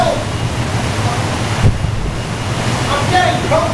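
Strong wind from tropical storm Fay roars across a beach, with ocean surf crashing continuously beneath heavy wind buffeting on the microphone and a brief louder gust midway; faint voices are present.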